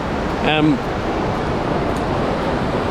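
Waves wash onto a beach on the Donegal coast as the tide goes out, a steady broadband roar of surf and wind close by, with a brief voice near the start.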